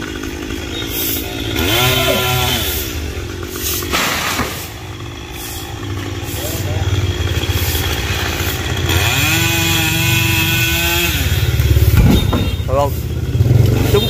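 A chainsaw cuts a branch high in a Dau or Sao tree, its engine revving in two long, strained bursts amid steady idling, with people talking over it.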